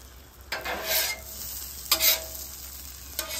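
Eggs sizzle on a buttered flat-top griddle with a soft, steady frying hiss, broken by three louder scraping spatula strokes spaced about a second apart; no talking.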